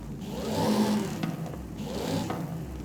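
A supercharged muscle car engine revs in the video game Forza Horizon 5. It rises and falls twice with a whirring tone, loud and steady, with no voices.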